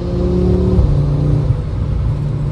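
A 2024 Audi RS3 fitted with mid pipes drones loudly and close, its engine and exhaust holding a deep steady tone that drops in pitch early on and then settles into an even rumble.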